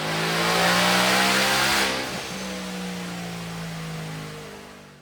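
A Ford Mustang engine revs hard on a dyno, a loud sustained roar that climbs, briefly drops with a shift around midway, then holds a steady high drone before easing off.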